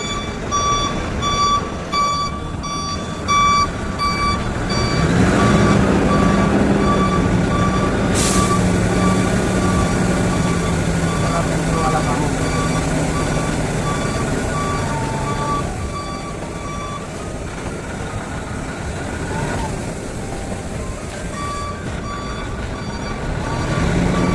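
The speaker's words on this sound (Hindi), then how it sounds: "गाड़ी रिवर्स करके लगाता हूँ" A truck reverses with steady, evenly spaced reversing beeps sounding over a loud engine rumble, the beeping stopping partway and resuming near the end.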